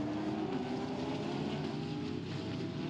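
A steady low engine drone from a GT race car in the pits at Sepang hums throughout, slightly distant and continuous, idling or running nearby without rising revs.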